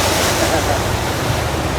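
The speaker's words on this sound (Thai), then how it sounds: "ฝนตกแล้วก็มีลมพร้อม" A steady, dense roar of rain and gusting wind on the Mekong River between Luang Prabang and Pakbeng fills the whole stretch, loud and unbroken.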